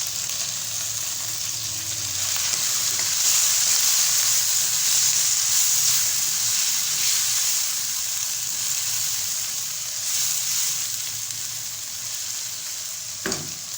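A large tomato hits hot oil in a pan of dal palak, and a steady, close, bright sizzle follows without a break. It is joined by light stirring and a sharp knock near the end.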